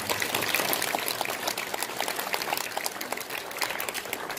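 Crowd applause at a Korean community ceremony marking the 100th anniversary of the March 1st Independence Movement, with dense, steady clapping filling the room without pause.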